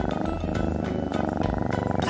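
A cat purrs close up in a steady continuous rumble with a faint rhythmic pulse, alone and fairly loud throughout the short stretch.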